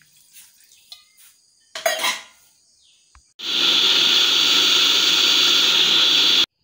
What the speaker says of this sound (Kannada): ಒಂದು ಗ್ಲಾಸ್ ನೀರು ಹಾಕಿ ರುಬ್ಬುತ್ತಾ ಇದ್ದೇನೆ